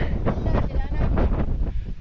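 Strong wind roars and buffets the microphone on peak 10 of Mount Batulao, loud and gusting throughout, with a voice faintly under it.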